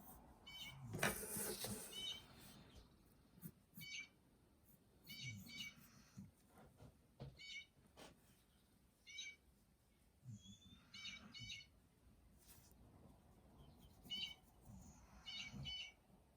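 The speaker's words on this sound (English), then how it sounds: "there is a bird right outside my window just going ham" A bird calls loudly just outside a window, repeating bursts of sharp, high chirps at a steady rhythm, with a little background noise between calls.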